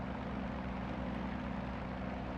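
A Yak-52 piston-engine aircraft drones steadily in flight in the DCS combat simulator, with a continuous low propeller hum and engine harmonics, loud and unbroken throughout, and no voices.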